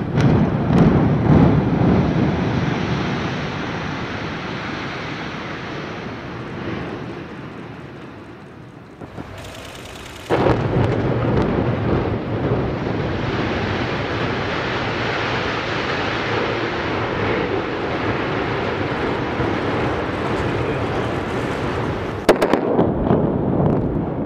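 A 26-floor, 118-meter building in northwest China comes down under about 1.4 tons of explosives, heard as a dense, roaring rumble of blasts and collapse that fades, breaks off briefly, then returns as a sustained distant roar.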